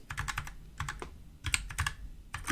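Fingers tap out entries on a computer keyboard in quick bursts of clicks separated by short pauses, close and fairly quiet with no voices.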